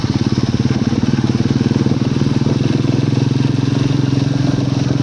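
Four motorcycles lined up at the Dabling view point, their engines idling together in a loud, steady, throbbing drone with a fast regular pulse, close by and continuous throughout.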